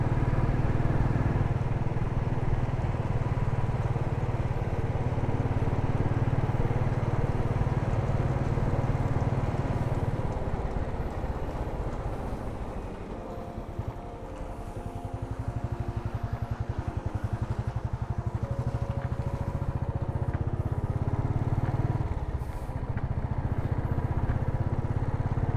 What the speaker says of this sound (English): let's drive around in some potholes